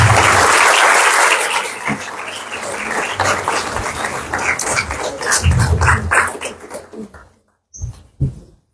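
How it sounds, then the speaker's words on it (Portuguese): A round of applause from an audience at a university lecture in Santos, Brazil, starting loud and dense, then thinning into scattered claps that fade out, with a dog barking and growling faintly amid the clapping. "Uma salva de palmas."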